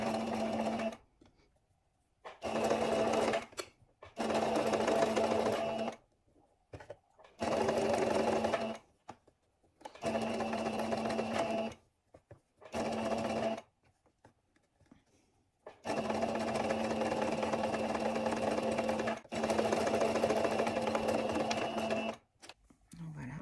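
A sewing machine topstitches 1 mm from the folded edge of a shirt sleeve, running in steady mechanical bursts of stitching separated by short pauses, close and clear.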